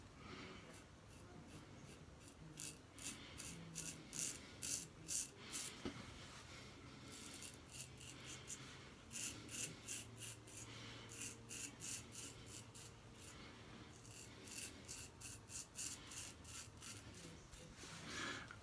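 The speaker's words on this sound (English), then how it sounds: "It's always the easiest way to know if it works is to shave with a razor when you hone it." A freshly honed, restored Heljestrand Nr 2 straight razor scrapes across stubble in quick, rhythmic bursts of short strokes, faint and close up, with brief pauses between passes.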